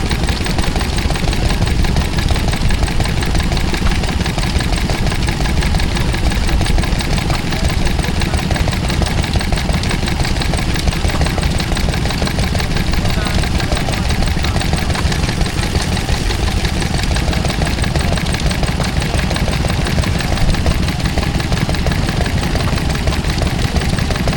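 A Ferguson T20 tractor engine runs steadily and loudly throughout at an outdoor rural show, a continuous low mechanical drone with a rhythmic knocking pulse and no talking.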